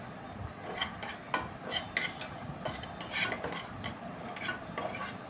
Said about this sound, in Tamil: அதனால தான் அதையும் நல்லா போட்டு வதக்கிக்கிறேன்